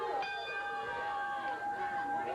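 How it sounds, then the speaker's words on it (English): Ring bell at a 1986 professional wrestling match, a sustained ringing metallic tone with layered overtones that holds steady and lingers throughout, with a voice talking over it. "Bell sounds as Rip Rogers, the Hustler, removes the rope"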